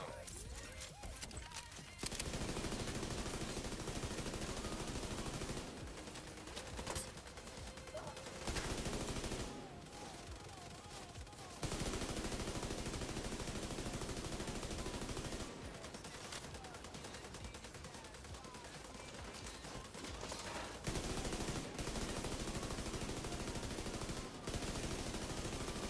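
Gunfire in The Division's Dark Zone, bursts of rapid automatic fire and dense volleys in several loud stretches separated by brief quieter gaps.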